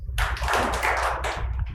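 Audience at a hospitality conference session answering a request for two claps with a loud, near, unison clapping burst from a crowd of hands, brief and dense rather than two separate claps.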